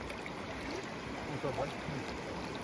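A strong river current rushes in the Komi Republic near Ukhta, a broad, steady wash of flowing water close by, with a voice murmuring briefly in the middle.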